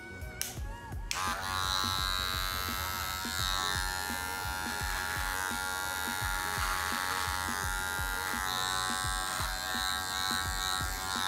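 An electric hair clipper fitted with a number 2 guard buzzes steadily and close while trimming a full beard, with faint snips and clicks through the continuous drone.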